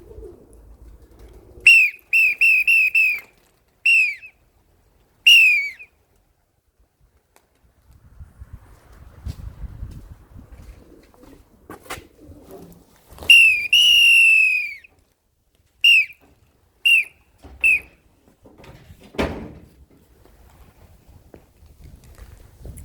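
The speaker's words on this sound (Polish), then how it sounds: "Używamy gwizdka." A hand whistle blown in short, sharp bursts to call pigeons, one kept for the light-coloured and wyszwance breeds, sounding in quick clusters of shrill tweets between quiet stretches with faint outdoor rustle and a few bird sounds.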